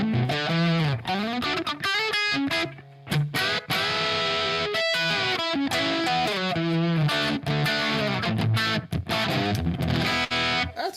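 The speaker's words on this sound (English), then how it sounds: "you get really natural tube distortion out of it just by pushing a little harder" An electric guitar plays fast riffs and chords through a gritty, overdriven tube amp, loud and up close with short stops between phrases.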